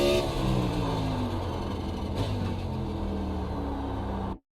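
A race car engine in the iRacing simulator, from a Fixed/NiS Cup Series car at Sonoma, drones steadily and loudly with its pitch climbing as it accelerates, then cuts off abruptly.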